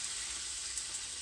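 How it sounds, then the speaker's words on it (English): Steady, close sizzling of raw chicken frying in a hot pan, a continuous bright hiss with no talking. "You hear that? That's the sizzling."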